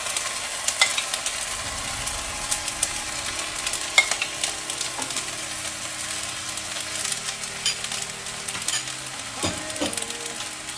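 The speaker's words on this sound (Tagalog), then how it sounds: "haluin lang natin siya" Thai basil fried rice with sauce sizzles in a hot pan while a spatula stirs and scrapes it, a steady close frying hiss broken by occasional clinks of the utensil.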